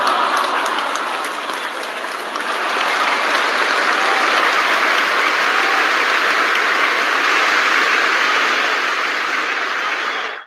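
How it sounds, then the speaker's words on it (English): Dense, continuous applause fills a live online morning call, a loud, even wash of clapping that holds steady before cutting off abruptly at the end. "that applause was not just for Michael L. Dalco"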